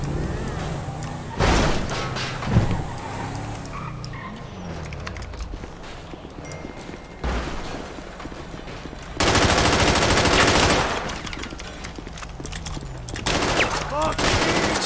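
Bursts of gunfire in a GTA RP video game, with loud volleys clustered near the start and a long dense stretch around the middle to late part, over a noisy game background and occasional voices.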